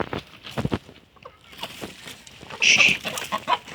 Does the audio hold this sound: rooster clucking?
yes